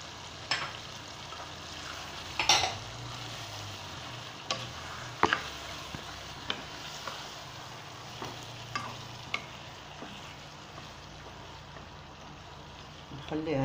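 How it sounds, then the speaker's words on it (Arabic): Chicken sauce with onion and tomatoes frying in a pan: a continuous soft sizzle broken by several sharp clinks and scrapes of a utensil stirring against the pot, with a voice talking at times. "نخليها هكا يتقلى شوية مع الطوماطيش"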